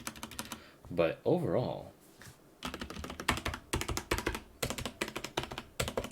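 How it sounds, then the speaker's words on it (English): Rapid clacking keystrokes on a Tecware Phantom 104 mechanical keyboard come close and loud in bursts, with a brief spoken remark interrupting early on. "Let's give it a typing test."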